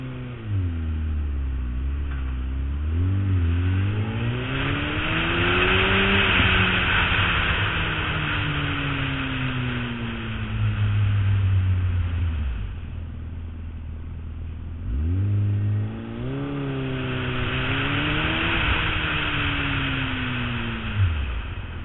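A Suzuki Hayabusa motorcycle is ridden, its engine rising and falling through repeated accelerations and gear changes, a loud close drone with wind rush building at speed, continuous with no talk.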